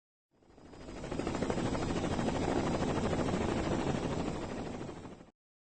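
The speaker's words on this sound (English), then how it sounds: "Chopper heading north from Cape Town waterfront." A helicopter in the Carmen Sandiego video game fades in, holds a steady chopping whir at moderate volume, then cuts off abruptly, heard alone without talk.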